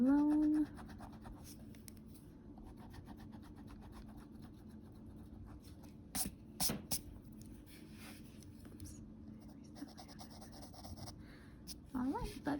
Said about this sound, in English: I'm going to erase my guidelines so you guys can see what it looks like standing alone.